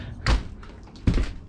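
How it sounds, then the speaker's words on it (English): A big, heavy door on a 26 ft trailer thuds shut twice in quick succession, loud and close with a deep booming impact. "It's a big old door there."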